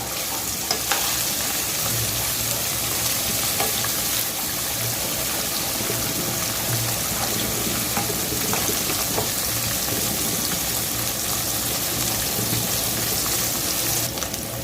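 Ingredients for sarson ka saag fry in a pan, giving a steady, close sizzle with occasional faint stirring scrapes and a low hum underneath, continuing without speech.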